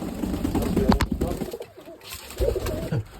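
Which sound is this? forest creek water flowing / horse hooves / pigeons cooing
pigeons cooing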